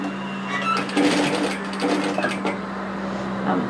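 A sewing machine stitches down gathers on a one-shoulder top in a continuous, close whirring run with a steady low motor hum throughout.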